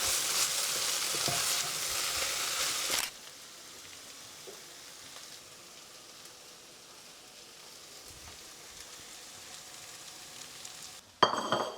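Sliced karela and onion sizzle in a frying pan, loud at first, then a quieter steady crackle, with a sudden stirring rattle at the end.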